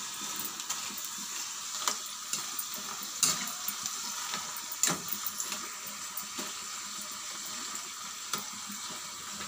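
Pieces of sweet kaja dough frying in hot oil while being stirred, a steady close sizzle with scattered soft scraping clinks throughout.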